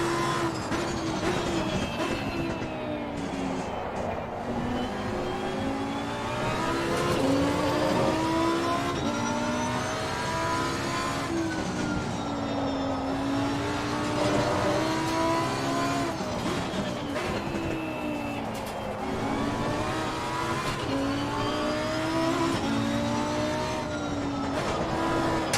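A GT race car engine in the Assetto Corsa Competizione racing game revs up and down through the gears, a steady high-pitched whine that climbs and falls in repeated sweeps across the lap.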